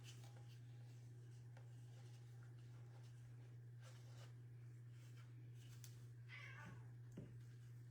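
A cat whines and meows in a kitchen, a few faint, brief cries near the end above a low steady electrical hum and quiet rustling.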